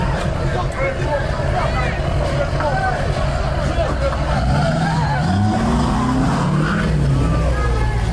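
A truck drives through a crowd of protesters on a Portland, Oregon street, its engine rumbling and shifting pitch loudly under continuous crowd noise and shouting voices.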